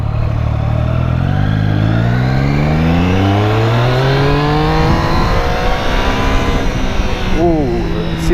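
A 2016 Triumph Street Triple motorcycle accelerating on a highway, engine pitch climbing steadily through the gears with a brief drop at a shift near the end, loud and close with strong wind noise.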